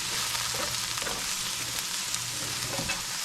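Black beans sauté in a hot pan, giving a steady, close broadband sizzle that holds at an even level from start to finish, with no voices.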